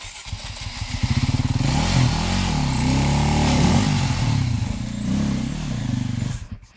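A motorcycle passes close by, its engine note rising in pitch, swelling to a loud, sustained roar, then fading away quickly at the end.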